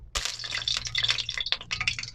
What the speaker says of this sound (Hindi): अभी हम धो लेते हैं।